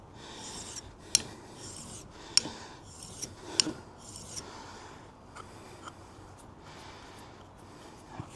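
A chisel held flat and rubbed back and forth on a sharpening stone to clear the burr: close, repeated gritty rasping strokes in an uneven rhythm with a few sharper scrapes, no talking.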